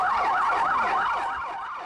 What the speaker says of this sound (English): Fire engines raced to a residential area in the South Korean city of Gwangju